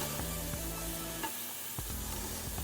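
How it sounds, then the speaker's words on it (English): Bell peppers and mushrooms sizzling in a hot pan, a continuous crackling fry with a few spatula stirs and scrapes, close and unaccompanied by voices. "First I threw in the bell peppers, now the mushrooms, and I'll let all that cook down a little bit"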